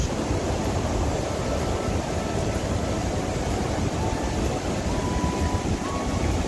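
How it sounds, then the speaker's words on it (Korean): Steady rushing of river water flowing past a Romanesque bridge at Moret-sur-Loing, a dense even wash of sound throughout with no voices. "지금은 흘러가는 물소리가 음악처럼 아름답게 들리는데"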